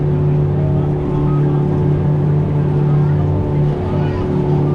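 A boat engine drones steadily and loudly with a deep, constant hum, with no change in pitch throughout, on a boat ride at Walt Disney World.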